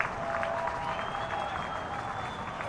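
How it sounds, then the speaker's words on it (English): A high school football crowd at a Hudson Raiders versus Arrowhead game cheers and claps steadily, a dense outdoor roar with faint whistle-like tones and a voice talking over it. "They're cheering them on, yep."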